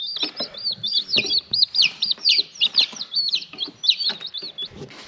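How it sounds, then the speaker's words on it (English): Baby chicks on a farm chirp quickly and continuously, a dense run of high peeping calls close by, with some softer clucking and shuffling noise underneath. "And we got 6 chickens."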